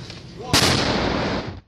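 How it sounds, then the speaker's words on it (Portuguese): A sharp, loud blast from fighting in eastern Ukraine cracks out suddenly, followed by a rumbling, decaying tail of distant gunfire and explosion noise. "Explosões e troca de tiros foram uma constante esta sexta-feira no leste da Ucrânia"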